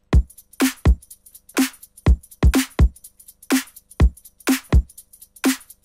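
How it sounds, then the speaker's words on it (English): Layered electronic drum mix of punchy kicks, snares and breakbeat samples from a track, playing a steady syncopated pattern up close with no voices. "So we got the kicks and the snares, and we've got our breakbeat samples."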